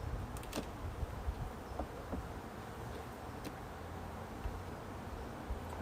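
Honey bees buzz in a steady, dense drone throughout an open-hive inspection, with occasional closer passes by individual bees.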